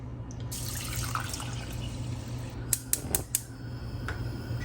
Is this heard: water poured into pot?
yes